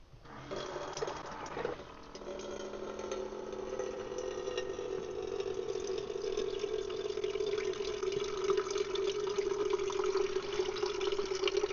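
Water pours steadily from a Dometic water jug into a Stanley Hold Tight percolator, a continuous close gurgling fill that rises slightly in pitch as the pot fills, with a brief clatter near the start.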